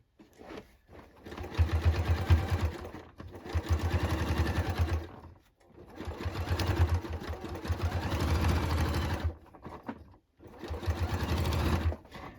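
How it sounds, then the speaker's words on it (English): Sewing machine stitching along the original seam line of a denim jacket, close and loud in three rapid bursts separated by short pauses, with no talk. "So I am stitching in the original manufacturing stitch line."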